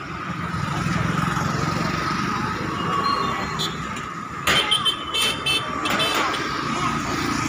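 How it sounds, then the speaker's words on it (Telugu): Street traffic rolls past a roadside food hub, a steady rumble of cars and bikes with a burst of horn toots midway, and people talk over the noise. "అటు ఇటు కార్లు బళ్ళు వెళ్ళిపోతానే ఉన్నాయి"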